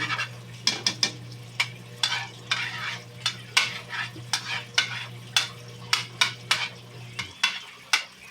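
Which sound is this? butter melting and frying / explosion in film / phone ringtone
butter melting and frying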